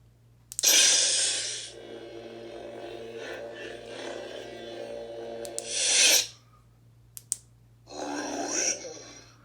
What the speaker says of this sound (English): This is one of my favorite Dark Side sound fonts.